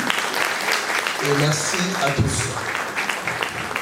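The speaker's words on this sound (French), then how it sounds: "je demande un petit applaudissement" Audience applause at an evening event of a sickle cell disease association, a steady patter of clapping running under speech from a person thanking the crowd and a doctor.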